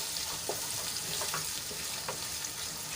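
Onion fries in a pan with a continuous loud sizzle and crackle throughout, broken by a few faint stirring scrapes and pops.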